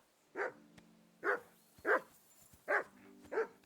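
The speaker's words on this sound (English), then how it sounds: "That barking was a pain in the ass." Five spaced barks from a dog in the video game Kingdom Come: Deliverance 2, loud and close, with short pauses between them and no voices.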